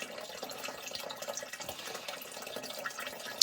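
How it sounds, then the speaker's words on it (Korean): Water runs steadily into a homemade water tank fed from a creek through a ram pump and automatic valve, a continuous faint trickling and splashing with no voices. "물 받아지고 있고요."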